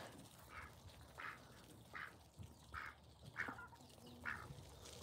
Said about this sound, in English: There's the ducks right there.